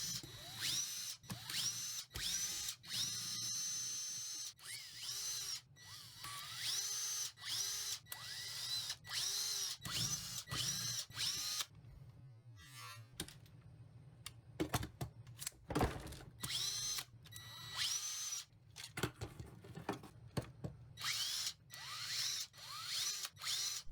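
An 18-volt cordless drill running in short repeated bursts, whirring and rattling close by, with clicks and mechanical clatter between runs and no talking.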